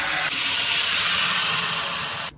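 Heated water is poured into a hot pan of tempered moong dal and rice fried in oil with mustard seeds, cumin, asafoetida and turmeric, bursting into a loud, steady steam hiss that cuts off abruptly.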